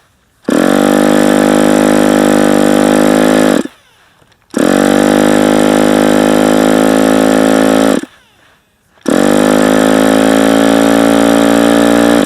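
A Fox 45 BBRC model engine, cold-started on a chilly day, sounds as three loud, steady high-pitched buzzing bursts of about three to four seconds each, separated by brief quiet gaps.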